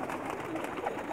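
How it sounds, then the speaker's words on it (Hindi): Racing pigeons on a rooftop cooing softly, a brief murmur of bird calls over a steady background hum. "माशाल्लाह जी, सब के सब बाजी वाले कबूतर हैं"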